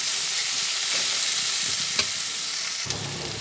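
Vegetables for shukto fry with salt and a little sugar, giving a loud, continuous sizzle throughout. A couple of faint utensil knocks come near the end, and no one talks.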